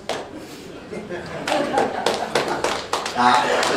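An audience claps for a player being presented with the number 16 shirt at a 2026 squad numbers launch; a burst of applause swells midway and carries on steadily, mixed with voices in the room.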